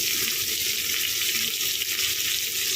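Green chillies and onions frying in oil for a curry, an even, continuous hissing sizzle heard fairly quietly and alone.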